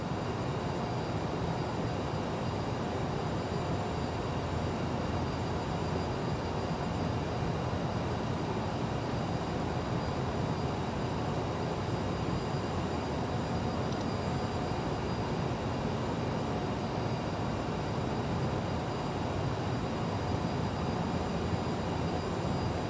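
Jet engines of a CRJ-700ER airliner in Microsoft Flight Simulator 2020 keep up a steady, even broadband roar with a faint high whine, unchanging for over twenty seconds and with no talk.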